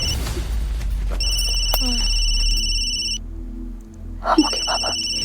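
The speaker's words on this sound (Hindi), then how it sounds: "भवानी फोन ले" A telephone rings in a Hindi TV drama household, an electronic ringtone sounding in repeated tones over a low background hum, then cutting off before a brief rustle.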